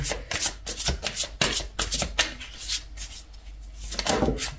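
Oracle cards being shuffled by hand at close range, a busy run of riffling and slapping card sounds with short pauses, steady throughout and free of talk.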